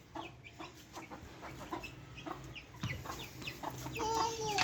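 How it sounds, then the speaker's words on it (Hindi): Chickens cluck and chatter close by in a morning yard, a busy stream of short clucks with one bird letting out a longer call near the end. "मुर्गियाँ।"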